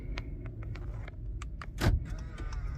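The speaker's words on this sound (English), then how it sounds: "So I'm gonna hit the lock. The mirrors fold in. Hit unlock." A car locking and unlocking from an LCD touchscreen remote key, with a string of short clicks and soft latch thuds as the side mirrors fold in under a low motor hum, closing on a firmer clunk.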